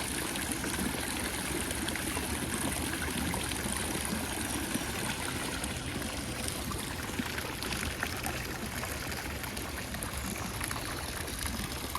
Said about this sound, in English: listening to the water features of the pool